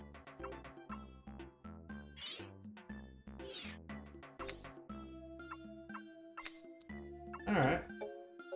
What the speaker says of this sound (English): Dancing Meowth.